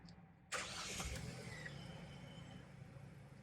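A Mahindra Thar petrol automatic with a 2.0L engine, heard with the door open, cranks briefly and fires up abruptly, then settles into a smooth, steady idle.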